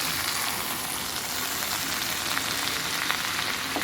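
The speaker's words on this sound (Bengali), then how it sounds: "করলা ভাজি, করলার সাথে একটু আলু দিচ্ছি" Bitter gourd slices and potato fry in a hot pan with turmeric, producing a steady, dense sizzle that holds evenly throughout at close range, without any voices.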